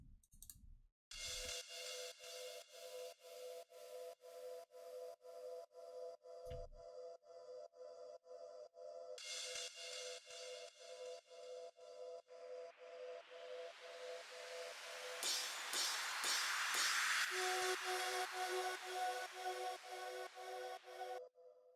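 An FX sound built from a vocal file for a dance drop plays as rapid gated, chopped vocal-like stabs. It leads into a rising noisy sweep that swells and breaks into a new pattern, all processed and without talk.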